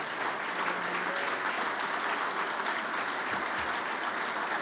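Sustained applause from a dinner crowd honoring Hall of Fame inductees at a winter enshrinement dinner, dense steady clapping filling the room throughout.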